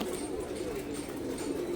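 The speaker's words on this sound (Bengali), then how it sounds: "কিছু নরকবুতর ডাকতেছে এখানে" Male pigeons coo in a low, throaty, rolling murmur close by, steady through the short stretch, with a faint background hiss and occasional higher chirps.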